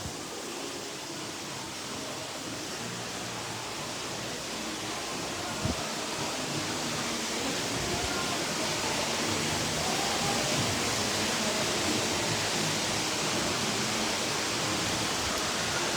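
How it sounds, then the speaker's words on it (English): A waterfall at the Shades of Green resort at Walt Disney World gives a steady, broad rush of falling water that stays even and fairly loud for the whole stretch, with no voices over it. "Let me wait until I get past the waterfall."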